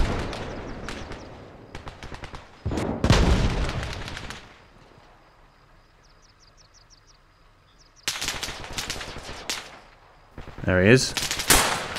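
Rapid bursts of gunfire and explosive RPG blasts from a video-game firefight, loud and dense at the start and end with a quieter lull between, while a player speaks briefly over the action.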